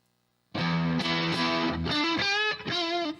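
An electric guitar played through a tube drive overdrive with the mids boosted, loud sustained distorted chords and notes with a growling, snarling edge, entering after a brief silence and ringing on alone.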